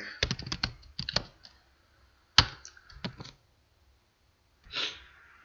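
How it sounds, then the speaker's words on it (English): Someone types on a computer keyboard, short clusters of crisp, close key clicks separated by pauses and ending with a soft breathy burst. "so we'll type in create table"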